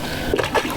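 A fishing frog lure for bass hits the water on a West Coast Delta spot, a single short, soft splash that is close and fairly faint.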